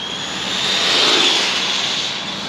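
A small high-pitched RC car engine screams at full throttle, a steady whining buzz that swells and fades over a couple of seconds, with wind noise outdoors.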